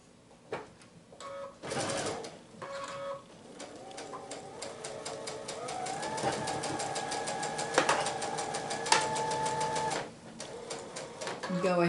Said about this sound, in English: We're going to chain sew these together.